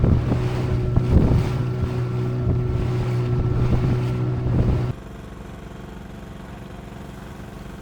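A tour boat's motor drones steadily while cruising through Komodo National Park, Indonesia, toward Rinca island; the engine hum is loud and even with wind noise over it, then drops abruptly to a quieter, lower rumble partway through.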